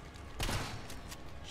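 A single loud gunshot is fired at a generator in the Resident Evil 3 Remake video game. The blast is followed by a brief rumble and a couple of fainter sharp cracks over a steady background hum.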